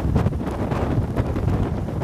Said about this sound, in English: we know the winds are really whipping out there.